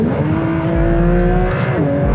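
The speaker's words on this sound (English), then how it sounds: "But there is no sound better than that engine. 4-litre flat 6, no turbo," Porsche 911 GT3 RS with a naturally aspirated 4-litre flat-six, revving loud and close, its pitch rising and dipping through a couple of sharp throttle changes.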